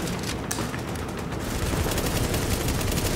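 Gunfire in Tom Clancy's The Division on PS4, a dense continuous barrage of rapid shots and blasts during a boss fight, loud and unbroken with no clear talk.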